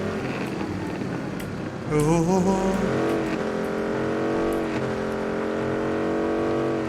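A vehicle in the PUBG video game drives with a steady engine drone that climbs sharply in pitch as it accelerates, then holds at a high, sustained whine. Game sound effects are heard alongside it.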